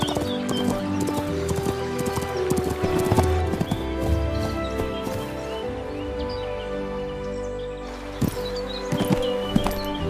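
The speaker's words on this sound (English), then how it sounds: "she mounted her horse and rode toward Verdel" A ridden horse's hooves clip-clop in a brisk, steady rhythm, close and loud, with a neigh or snort mixed in and rustling around it.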